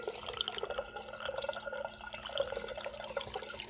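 Hot hibiscus liquid for mead, sweetened with honey, poured through a sieve set in a funnel; a steady close splashing trickle runs continuously and evenly, with no voices.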